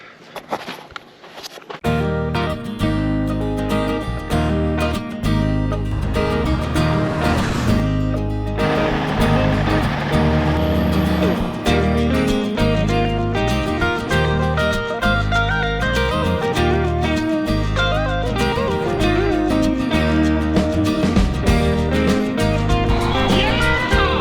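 A K100 truck engine cold-starts, catching after about two seconds and settling into a loud, steady, throbbing idle heard close by with nothing else over it.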